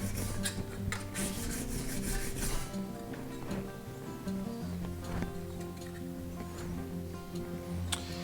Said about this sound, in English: I'm going to remove the burr that we created with the file. Again, just on the stone like this.